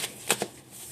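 Tarot cards shuffled briefly by hand, a quick papery riffle with a couple of soft slaps, close and fairly quiet.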